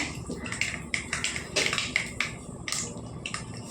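Rapid irregular pops and crackles of mustard seeds spattering in hot oil burst over a low sizzle, close and fairly loud.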